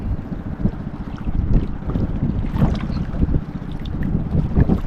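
Steady rumble of a boat's engine with broadband wind and water noise in strong monsoon wind after a typhoon, continuous and fairly loud throughout, no voices.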